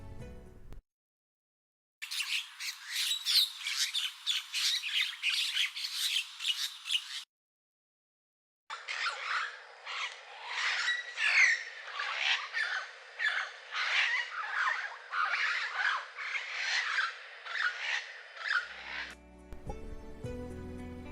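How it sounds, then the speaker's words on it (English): Four or five mynahs squawk and shriek in loud, shrill bursts while fighting and chasing each other between trees, with two long stretches of dense, overlapping calls separated by a short pause. "There were about 4 or 5 Mynahs involved in the fight, calling out as they chased each other off from tree to tree."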